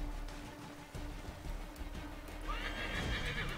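A horse in the video game Assassin's Creed 3 gives a rising whinny over faint hoof clip-clops and low game ambience, moderately quiet and with no talking.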